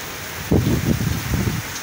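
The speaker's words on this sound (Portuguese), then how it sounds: "Chuva é bom, mas de jeito assim não presta não" Heavy rain in a strong-wind storm at a rural farm in Brazil, a dense steady hiss of downpour with gusty low rumbling surges, fairly loud and close.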